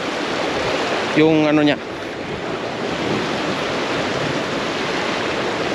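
Cold stream water flows and rushes steadily outdoors in Bukidnon, a constant broadband wash with a brief burst of speech early on.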